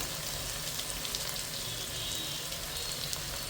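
Curry leaves and spices frying in hot oil for a tuna head curry, a steady, close sizzle with a soft hiss running evenly throughout and no voices.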